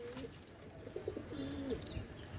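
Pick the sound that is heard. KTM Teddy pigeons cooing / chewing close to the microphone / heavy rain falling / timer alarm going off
KTM Teddy pigeons cooing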